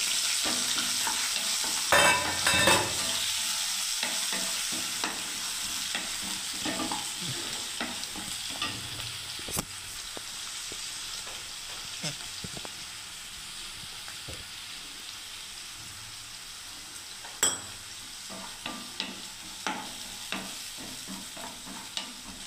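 Eggplant and onion fry in hot oil for an eggplant curry, a steady close sizzle with occasional stirring scrapes and clinks throughout, no speech.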